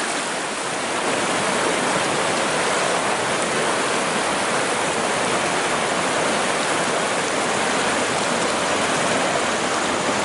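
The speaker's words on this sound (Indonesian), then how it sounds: "Ini aliran yang cukup deras ya" A fast, clear river current rushes steadily and loudly in a dense, unbroken wash of water noise, heard close with no voices.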